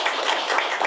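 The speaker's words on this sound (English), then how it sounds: "If we give them one more round of applause," Brief burst of dense applause from an evening audience honoring undergraduate research scholars at an awards ceremony, steady broadband clapping throughout with no speech.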